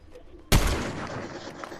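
A sniper rifle firing in a video game shooter, a single sharp loud crack followed by a long decaying echo tail, close and alone.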